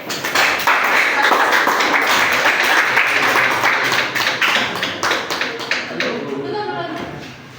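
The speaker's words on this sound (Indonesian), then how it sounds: "Untuk kelompok 1 beri tepuk tangan ya" A vocational school class applauds a student group in a classroom, a burst of close clapping that thins out toward the end, with some voices mixed in.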